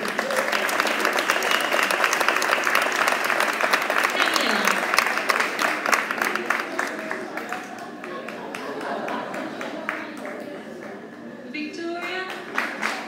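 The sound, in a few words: audience applause at prize giving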